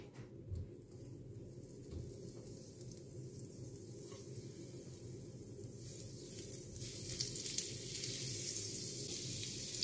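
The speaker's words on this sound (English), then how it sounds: "So in the pan, this is heated up now. I'm going to add some butter." Butter sizzles in a preheated frying pan, a soft continuous crackle and hiss that swells slightly louder toward the end, with no voices.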